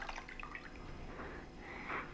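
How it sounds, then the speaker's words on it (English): Water poured into a container for making herbal tea, a faint continuous splashing trickle over a low background hum, brightening slightly near the end, no voices. "First, we will add some water into the container"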